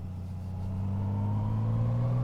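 Honda Goldwing bagger with a manual gearbox pulling away in second gear, its engine giving a steady low hum that swells in loudness and rises slightly in pitch as the bike accelerates, close and continuous with no talk.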